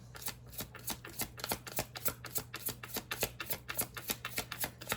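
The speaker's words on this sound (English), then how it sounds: "I'm gonna get 2 more cards and close it out." Tarot cards are shuffled by hand in quick, rhythmic riffles, a close run of crisp papery flicks repeating roughly every quarter second over a faint low hum.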